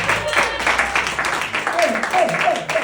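Audience clapping at an improv comedy show, a short, steady patter of applause at moderate volume, with voices faintly mixed in.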